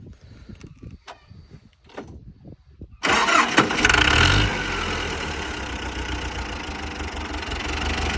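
A T-40 tractor diesel engine fitted with a Lithuanian Jubana fuel pump cranks over and catches after a quiet stretch of small handling noises, then settles into a loud, steady, rough cold idle close by.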